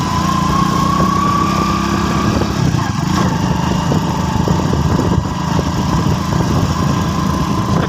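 A motorbike rides along an unpaved dirt road past farm fields, its engine buzzing close and loud with a steady, slightly rough drone and no break.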